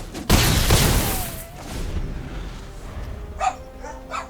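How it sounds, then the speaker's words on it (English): Dogs barking in a home, a few loud bursts up front, then quieter scattered yelps and whines further off alongside other background noise. "My dogs are going nuts."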